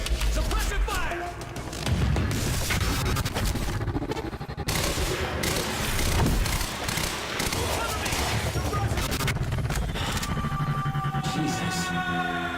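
Sustained gunfire rattles through a firefight in Quantum Break: dense bursts and repeated shots with heavy booms mixed in, loud and continuous, with shouted voices partly audible through the barrage.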